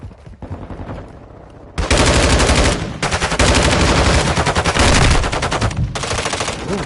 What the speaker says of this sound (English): This gun is like pop.